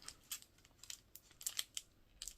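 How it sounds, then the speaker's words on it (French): Household scissors snip repeatedly at plastic packaging from a discount-store haul, a series of short, crisp cuts in an irregular rhythm, fairly quiet and close, with no talking. "Je vais le défaire avec mes ciseaux."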